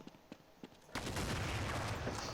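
Gunfire in the video game Counter-Strike 1.5 starts with a few spaced single shots, then breaks into a loud sustained burst of rapid fire filling the rest of the moment.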